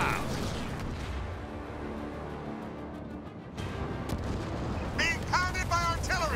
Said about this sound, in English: Being pounded by artillery.